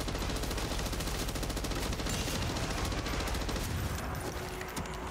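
Dense, continuous automatic gunfire fills a fight in the video game MW3 Zombies, loud and rapid bursts layered with game effects, easing slightly near the end.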